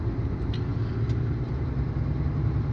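A truck rolls steadily along the road at night, a constant low engine rumble and road drone filling the whole stretch with no pauses and no voices.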